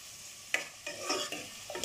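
Ingredients for a chicken dish are sautéed in a pan, a soft sizzle broken by four or five spatula strokes scraping and tapping at uneven intervals.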